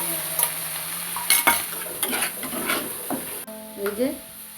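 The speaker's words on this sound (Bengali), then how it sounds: "এবার খিচুড়ির জন্যে তেলের মধ্যে আমি গোটা জিরে আর শুকনো লঙ্কা ফোড়ন দেবো। এবার মশলাগুলো দিয়ে একটু কষিয়ে নেব।" Whole cumin and dried red chillies spluttering in hot oil for a khichuri tempering, a sizzle broken by scraping stirs and clinks of a spoon against the pan, with brief bits of voice.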